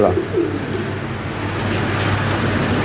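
Pigeons coo softly close by in a low, repeated murmur over steady background noise at a pigeon market.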